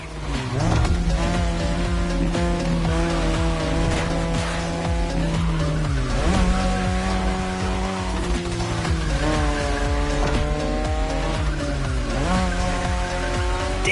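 A Mazda RX-7 drifts through sharp turns in The Crew Motorfest, its engine droning steadily with long sustained tire squeals that rise and fall across repeated slides, loud and close with no talking.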